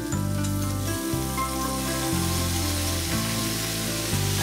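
Green chilies, ginger and chopped radish (mooli) sauté in a pan with a steady soft sizzle, largely buried under loud, continuous background music.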